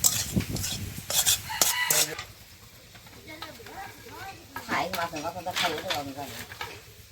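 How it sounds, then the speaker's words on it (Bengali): A spoon stirs a sour greens dish in a cooking pot, giving repeated scraping and clinking strokes, with louder clatter early on and voices talking over the rest. "এই একটু ঘন ঘন নাড়ুন, নিচে না লেগে যায়"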